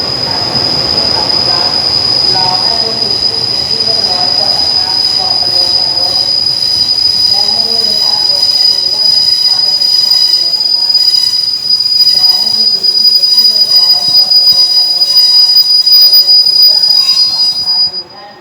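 Rapid train 136 from Ubon Ratchathani to Krung Thep Aphiwat rolls steadily along the rails with a loud, constant metallic squeal and rumbling wheel noise, close by, fading at the end.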